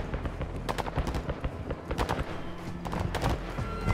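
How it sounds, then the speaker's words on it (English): Rapid gunfire rattles through a Call of Duty Modern Warfare 2 campaign battle, dense overlapping automatic bursts and single shots at varying distances, continuous for several seconds. "Who is shooting?"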